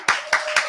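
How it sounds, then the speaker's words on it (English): Three sharp hand claps in quick, even succession from a group at a gathering, crisp and close with a faint tonal ring between them. "The hand clap."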